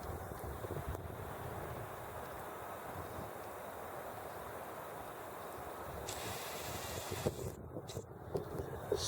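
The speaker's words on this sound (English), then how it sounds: "Wind from the north." A north wind roars during a March snowstorm in southwest Connecticut, a steady broadband rush that keeps going throughout, with rougher gusts and buffeting near the end.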